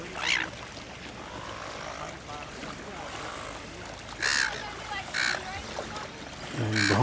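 Ducks give a few short honking calls over steady water and boat noise on an estuary in Walpole, Western Australia, with a voice faintly under the scene.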